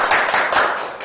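Brief burst of close hand clapping from a small lecture audience, a few distinct claps in quick succession lasting about a second, with no voices over it.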